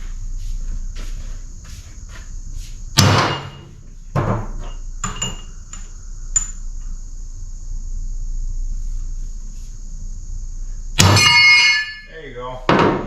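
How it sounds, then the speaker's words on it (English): Several sharp metallic hammer blows ring out on a punch while changing blades on a Woods brush mower, spaced apart, with a steady high insect-like whine and a brief clatter between strikes. "let's try a bigger punch and a bigger hammer and some safety glasses"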